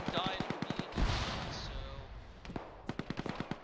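Gunfire in the ArmA military game: a rapid burst of sharp shots, a pause with a voice speaking, then another quick volley of cracks at moderate distance.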